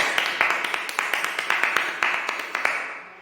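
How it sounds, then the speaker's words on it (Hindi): A Hindi-speaking church prayer gathering claps hands together in a brisk, steady burst of applause, sharp individual claps layered into a close, lively patter that tapers off at the end. "परमेश्वर के वचनों में जाने से पहले जोरदार तालियों से स्वागत करते हैं"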